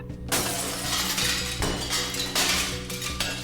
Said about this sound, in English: I honestly think it's one of the best glass breaking sound effects I've ever heard in a video game